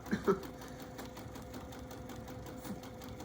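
A sewing machine quilting along a seam with a serpentine stitch runs fast and steadily, giving a quiet, continuous whirring hum after a couple of brief louder ticks at the start.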